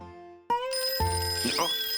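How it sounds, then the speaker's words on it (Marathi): A landline telephone bell in a Marathi TV serial scene rings out loud and close, a bright sustained ring that starts abruptly and carries steadily to the end. "हा फोन वाजतच"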